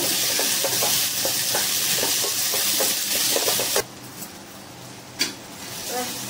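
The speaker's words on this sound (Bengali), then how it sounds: "নেড়ে নেব।" Chicken do pyaza with kasuri methi stirred in a hot pan: loud steady sizzle with rhythmic scraping strokes, then the sizzle drops away to quieter clinks and a soft knock.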